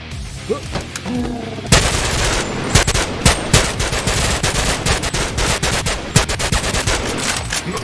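STEN submachine gun fired in the VR game Boneworks, loud rapid automatic bursts of sharp shots, close up, starting after a short quieter lead-in and continuing in repeated strings.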